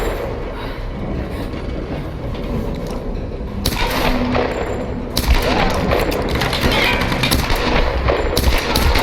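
Rapid gunfire in the Tomb Raider video game, a dense, loud barrage of continuous shots with sharper bursts partway through, set against a constant rumbling background.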